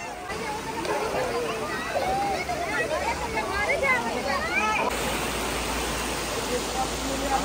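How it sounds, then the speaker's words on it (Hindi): A small waterfall rushes steadily outdoors as a broad, continuous wash, while people talk and chatter over the water throughout. "यहीं पे है थोड़ा जो वाटरफॉल की जगह टाइप का है"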